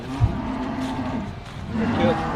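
A six-year-old male water buffalo at a cattle and buffalo livestock market gives a low, drawn-out moo close by, with the general murmur of the market around it.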